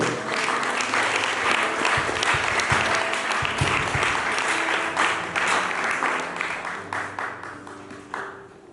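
A church congregation applauds and cheers, a loud sustained wash of clapping and voices that holds steady before thinning out toward the end.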